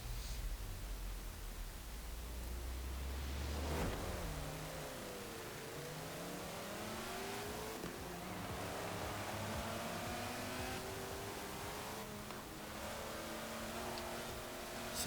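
A Gulf-livery Ford GT40 in the Forza Horizon 4 video game drives with its engine revving up and down through repeated gear changes, heard close and steady under a hissy noise bed.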